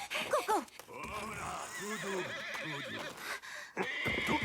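Horses in an anime episode whinny loudly in shrill, wavering neighs that rise and fall repeatedly, mixed with background scoring and brief clip-clopping hoofbeats.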